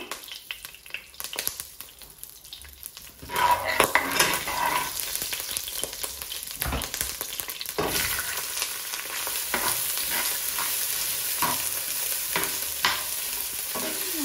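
Cumin seeds sizzle in hot ghee for a Sylheti meat pilau, the frying starting quietly and then jumping to a loud, steady crackle that continues to the end.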